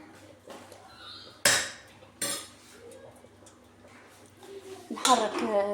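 A spoon or utensil scrapes and knocks against a pot while chicken is stirred, giving a few sharp metallic clinks and soft scraping under a woman's speech.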